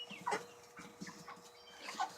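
Meat chickens cluck and squawk in short bursts as birds scuffle nearby, a couple of louder peaks rising over steady low farmyard noise.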